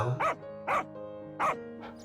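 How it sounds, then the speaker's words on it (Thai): A dog barks three times in quick, evenly spaced bursts, fairly close and loud, followed by a softer fourth yip. "มันตอบเขาด้วยเสียงเห่า"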